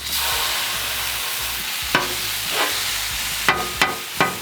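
Ground beef, 85-15 grass-fed, sizzles steadily on a Blackstone griddle, with a few sharp scraping and stirring knocks from a spatula breaking up the meat near the end.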